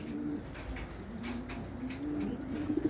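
A Keşmir pigeon coos in a low, repeated warble, close and fairly steady, over faint background noise with no talking.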